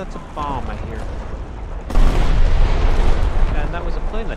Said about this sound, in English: Oh, that's a bomb, I hear.